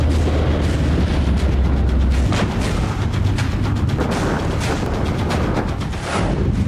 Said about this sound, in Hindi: LAC के पास टैंक से गोलाबारी